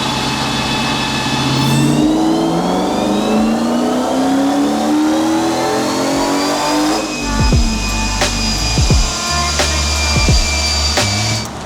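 Supercharged V8 drift truck engine revving hard in fourth gear on a dyno, a loud rising roar that climbs steadily for about seven seconds before letting off into lumpy, popping idle with sharp exhaust bursts; no talking.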